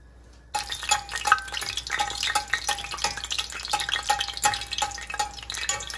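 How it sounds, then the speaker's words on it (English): An egg-battered chile relleno dropped into hot frying oil, bursting into a busy crackling sizzle with quick pops and spatters that keeps going steadily after a quiet start. "Now you dip it in. Make sure that your oil is not too hot"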